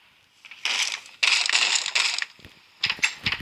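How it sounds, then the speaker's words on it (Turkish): Harsh crunching bursts come in quick succession, like blows smashing through a door in Minecraft, loud and close with short pauses. "Kapıyı kırıyorlar."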